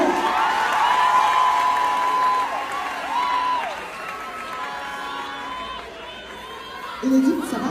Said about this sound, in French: Applaudissez plus fort, monsieur